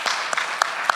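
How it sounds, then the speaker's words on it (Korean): A church congregation at a Wednesday prayer service applauds in a brief, soft burst of clapping, with a few sharper claps standing out over a steady patter. "한번 박수를 한번"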